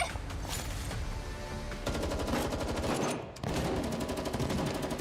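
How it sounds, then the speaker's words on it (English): Automatic gunfire rattles through a video game battle in GFL2 Exilium, set in a narrow corridor, with rapid bursts of shots crackling in quick succession and a short pause partway through. "The sound of gunfire, thuds, and footsteps."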